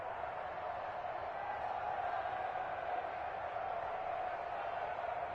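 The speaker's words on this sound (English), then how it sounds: "The crowd getting into it as we come up on a big 3rd down" Steady stadium crowd roar from a PS4 football video game, a continuous broad wash of cheering building as a big third down approaches, with no talk over it.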